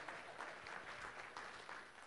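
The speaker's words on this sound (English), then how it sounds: "Let's give them all a round of applause." An audience applauding at a business talk, a steady dense patter of many hands clapping, fairly faint and distant, continuous for the whole stretch with no talk.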